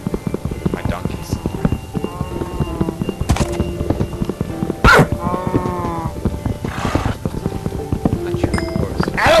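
Horse hooves clip-clop in Minecraft as a steady run of hoof beats, with scattered animal noises, thumps, and people talking over them.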